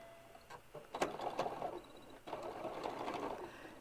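A sewing machine stitches binding onto the edge of a quilt in two close, whirring bursts separated by a short pause, with faint clicks of handling at the start.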